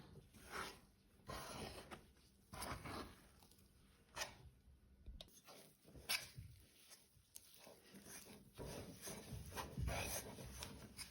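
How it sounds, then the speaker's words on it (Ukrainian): Rye bread dough on sourdough being kneaded by hand in a home kitchen after the second portion of flour is added: soft, irregular rubbing and pressing noises, faint and close, with no talking. "Додаємо другим, другу частину борошна. І добре вимішуємо."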